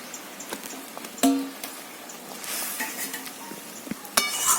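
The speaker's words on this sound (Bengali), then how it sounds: "মশলাটা ফুটতে শুরু করেছে, এর মধ্যে আমি ভেজে রাখা শাকগুলো দিয়ে দিচ্ছি।" Fried bottle gourd leaves go into a bubbling, sizzling spice paste in a pan, stirred with a few sharp clinks of a metal spoon against the pot; no voices.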